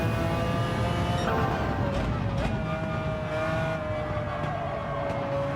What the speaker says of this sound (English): Just engine noises.